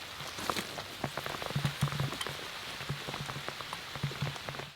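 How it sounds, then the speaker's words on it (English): Rain patters steadily on a homestead clearing, a dense wash of drops with scattered louder taps close by, with no voices. "It's starting to rain. You can hear it coming."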